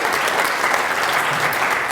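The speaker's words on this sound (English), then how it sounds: "perhaps you should give a round of applause to our choir" Dense, even applause from an audience for a choir at a launch event fills the hall continuously, with no talking over it.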